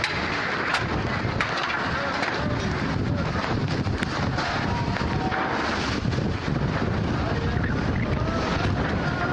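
Strong wind gusts tear through a residential neighborhood in Tambun Selatan, Bekasi, West Java, a loud continuous buffeting roar battering the microphone throughout, with faint voices buried underneath.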